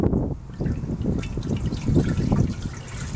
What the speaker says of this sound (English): Now we can watch the water spill over.